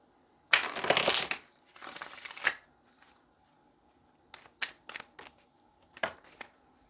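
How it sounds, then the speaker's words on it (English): Tarot cards shuffled by hand in a long riffle burst, then a second, followed by several short, crisp flicks and taps, close and alone with no talk. "let's go ahead and get a couple of more shuffles"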